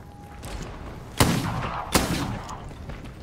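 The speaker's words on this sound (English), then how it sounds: "Oh my god, I love this revolver. This is my new main gun." Two loud, heavy revolver shots ring out in Bloodhunt, spaced under a second apart, each a sharp boom with a short rumbling tail over quiet game ambience.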